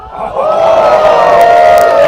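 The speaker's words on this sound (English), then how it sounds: "The crowd is going crazy here." A large crowd at a disc golf tournament final roars and cheers loudly, the noise rising quickly and holding steady with whoops and shouts blending into a sustained wall of sound.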